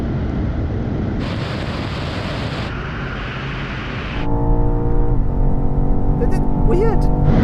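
BMW X6M, Audi RSQ8 and Porsche Cayenne Turbo S SUVs accelerating hard in a drag race, heard as a loud, steady engine roar from inside a car, with wind rush and rising tonal harmonics, a voice talking over it.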